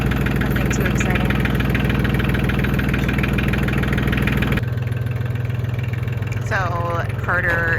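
A tractor engine runs at a steady idle, loud and close, with a continuous low rumble, and a change in tone partway through as people talk over it.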